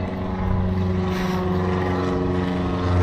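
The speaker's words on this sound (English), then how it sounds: "there's a plane going overhead" A propeller airplane passing overhead, heard as a steady, loud engine drone with a strong harmonic hum lasting the whole stretch, with no talk over it.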